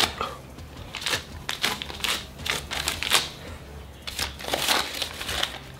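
Prop paper money bills being peeled apart, a series of crisp crinkling and rustling paper bursts in irregular rhythm, close and fairly quiet, with no talking.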